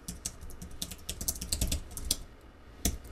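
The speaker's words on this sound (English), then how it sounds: "we need to type the phrase describe customer" Computer keyboard keys clatter in irregular bursts of quick, close taps while a database command is typed out, with short pauses between runs of keystrokes and no voices.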